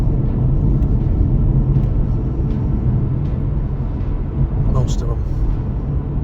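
A 2023 Audi A5 Sportback S-Line 45 TFSI mild-hybrid quattro cruises briskly on the motorway, its engine and road rumble a steady low drone heard from inside the cabin, with a few words spoken over it.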